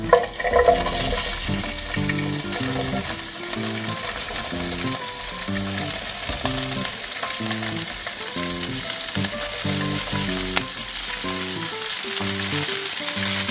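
Cabbage stir-fries in a pan over medium-high heat, a loud continuous sizzle with regular rhythmic tossing and scraping of the vegetables throughout.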